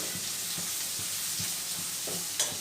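Onions frying in a pan with turmeric and salt, a steady close sizzle broken by a few soft stirring scrapes and one brief clink near the end, no talking.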